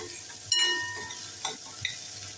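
Chopped onion, green chillies, curry leaves and coriander sizzle in a pan for dal khichdi, a soft frying hiss with a few distinct clinks and scrapes of a spoon stirring, close by and without talk.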